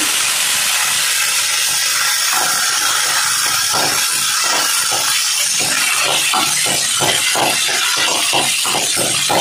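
Steady loud hiss of curry leaves and dried red chillies sizzling in hot oil for a traditional Telugu kanda bachali pulusu, with crackling pops bursting rhythmically throughout.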